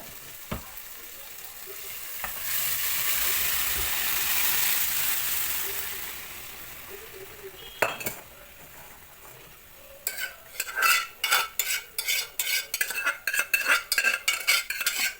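Mutton pieces and gongura leaves tipped into a hot pot for Andhra-style curry, first a broad sizzle, then a run of sharp, rhythmic scraping and clanking of a ladle stirring against the metal pot, close and loud.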